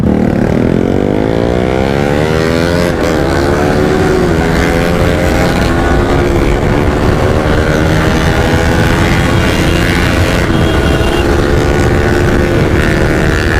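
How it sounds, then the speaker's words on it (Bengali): A Bajaj Pulsar NS 200 motorcycle roars loudly on a group Sunday ride, engine pitch sweeping upward through repeated gear climbs, heard close and continuous with wind rush and no talk. "সব ফাটিয়ে রেখে দেবে NS 200 মনে হচ্ছে আজকে, যা আওয়াজ করছে ভাই।"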